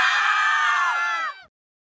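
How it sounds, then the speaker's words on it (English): One loud, sustained human scream lasts about a second and a half, then breaks off sharply into silence. "Scream."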